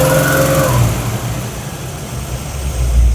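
A car or truck engine rises from idle as throttle is applied, a loud, close revving that climbs in pitch, eases off, then swells again at the end.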